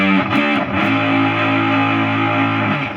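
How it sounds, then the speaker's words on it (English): Heavily distorted electric guitar chord through a Dean Markley distortion pedal rings out loud and sustained, with a few quick picked strums at the start before it holds and fades. "now let's turn on the Dean Markley distortion"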